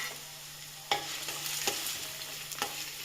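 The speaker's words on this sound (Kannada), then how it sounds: "5 ಸ್ಪೂನ್ ಎಣ್ಣೆ ಹಾಕ್ಬಿಟ್ಟು ನಾವು ಈಗ ಆನಿಯನ್ನ ಫಸ್ಟಿಗೆ ಹಾಕ್ತಾಯಿದ್ದೀವಿ" Chopped onions go into five spoons of hot oil in a heated pan for a mushroom gravy, giving a soft, steady sizzle punctuated by a few sharp stirring clicks and scrapes.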